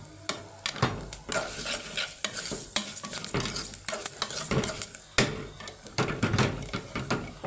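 Onion frying in a spoonful of oil in a pot for red fish rice sizzles under repeated scraping and clanking of a spoon against the pot, with irregular sharp knocks throughout.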